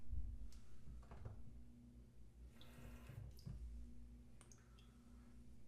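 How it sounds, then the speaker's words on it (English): Water trickles from a tap into a shave bowl for lathering, a faint splashing run with scattered drips and small clicks over a low hum. "so they say fill this up twice with water,"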